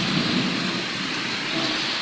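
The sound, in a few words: heavy rain with thunder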